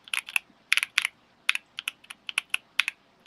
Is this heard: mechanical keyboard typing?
yes